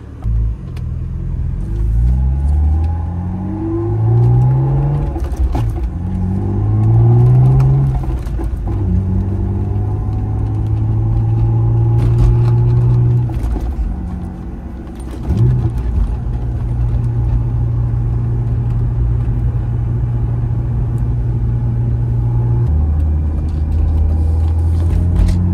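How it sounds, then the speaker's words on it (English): A BMW E36 M3 with a rebuilt short shifter drives along, its steady drivetrain and transmission whine riding over engine rumble that rises and falls through gear changes, loud and close throughout. "You'll hear a lot more of the transmission noise or the drivetrain noise."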